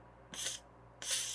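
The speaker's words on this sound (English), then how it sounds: "Alright, spray it" Two short hissing bursts from a spray can, the first about a quarter second long and the second slightly longer, close and fairly loud, during assembly of an OXY 3 Tareq edition RC helicopter tail boom and frame.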